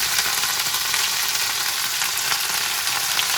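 Moringa leaves fry in a pan with a loud, dense, continuous sizzle and crackle that stays even throughout, close by and alone, with no talking.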